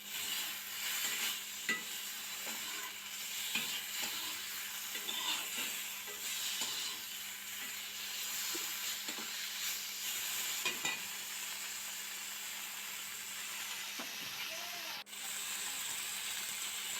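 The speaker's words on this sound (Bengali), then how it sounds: "একই তেলে লোনা ইলিশের টুকরোগুলিকেও" Salted hilsa fish pieces fry in oil with a steady, fairly quiet hiss and crackle, punctuated by occasional small pops and taps from a turner, with no talking.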